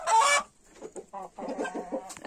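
Heavy-breed hens and a rooster in a henhouse give a loud squawk, then a run of soft, close clucks and murmurs.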